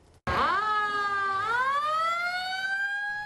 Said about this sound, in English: the fire trucks were rolling out for calls